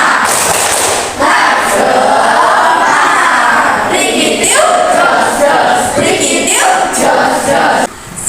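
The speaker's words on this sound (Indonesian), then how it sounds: "Tepuk semangat." Classroom of children shouting a tepuk semangat clapping chant in loud unison, with dense rhythmic claps and voices filling the room throughout.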